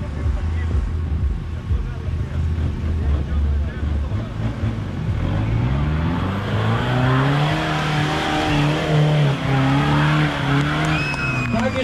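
An Opel Frontera off-roader runs a speed lap at an off-road event, its engine revving up and down through gear changes, passing close and loud, with tyre noise and a commentator talking over it.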